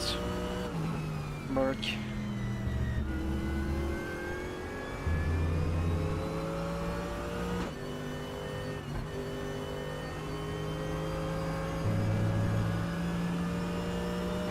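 A Mercedes race car engine in the RaceRoom racing game, revving through shifting pitches with gear changes and rises and falls in revs, steady and fairly close throughout.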